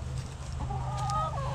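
Chickens clucking in a backyard coop, a run of soft, close clucks over a steady low background hum, with no talking.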